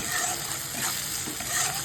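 Chopped onion, garlic and ginger fry together in a pan with a steady, close hiss of hot oil and a faint rustle of stirring throughout.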